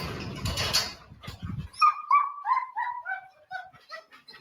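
An American Pit Bull Terrier named Banshee lets out a string of high-pitched whiny yips and short barks, close by, after a brief burst of rustling noise.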